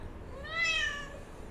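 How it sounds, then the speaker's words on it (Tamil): A cat that has recently given birth gives a single clear meow, rising and then falling over about half a second, moderately close against a quiet background. "ஒரு மியாவ் சொல்ல ஒரு மியாவ்"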